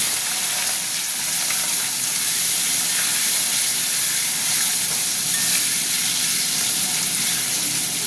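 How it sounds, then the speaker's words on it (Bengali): Potatoes fry in hot oil with bay leaf and dried chilli, giving a steady, loud sizzle and hiss that stays even throughout with no voices. "তেল গরম হয়ে গেছে, এবার আমি আলুটা দিয়ে দেবো"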